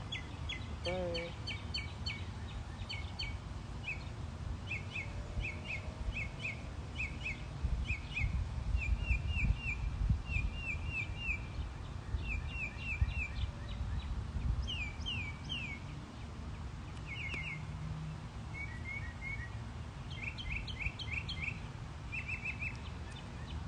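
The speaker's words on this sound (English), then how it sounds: "There's a bird." Birds sing outdoors in repeated bright chirps and short warbling phrases that continue throughout, moderately near, over a steady low background rumble and noise.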